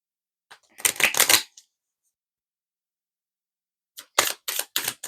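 An oracle deck of mirror cards is shuffled up close in two brief bursts of crisp riffling and flicking, separated by a few seconds of silence, with no voice heard.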